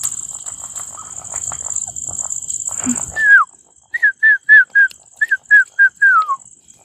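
A dog gives a quick run of about eight sharp, high yelping barks, close and loud, at a hillside campsite at night, after a quieter stretch with a thin steady whine.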